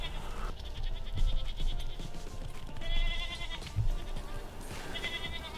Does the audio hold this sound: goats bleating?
yes